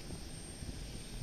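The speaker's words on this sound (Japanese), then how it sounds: "だんだんとエンジンの回転数が増えているのがちょっとわかると思うんですけども" An airplane engine revs up at Osaka Itami Airport, heard as a steady, dense broadband roar that holds constant throughout the short stretch.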